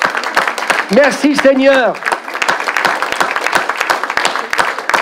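A church congregation claps in a dense, continuous patter of applause at close range, while voices call out and exclaim over it.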